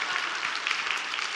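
A church congregation, mostly women, applauds during a sermon: a dense, steady wash of many hands clapping together, even in loudness throughout.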